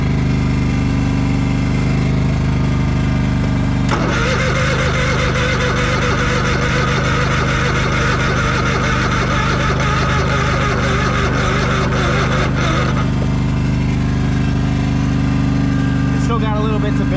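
A Craftsman lawn mower engine, once abandoned and now running on a makeshift fuel pump setup, starts and runs steadily for several seconds at close range before cutting back, with a low continuous drone throughout.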